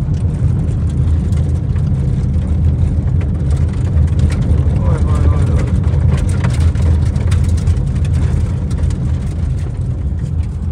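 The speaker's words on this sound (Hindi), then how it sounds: "वो ना सारा उखड़ उखड़ के गाड़ी के टायरों के साथ लग रहा है, आवाज़ें आ रही हैं" Vehicle tyres roll over a freshly laid, loose gravel road, giving a loud, steady rumble scattered with crackling grit under engine drone, while a voice talks faintly in the background.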